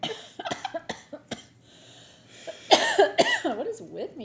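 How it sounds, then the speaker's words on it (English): Several sharp coughs in a quick burst, followed by a throat-clearing rasp and a short spoken phrase, close to the microphone during a live broadcast. "You just like start coughing and you can't stop coughing"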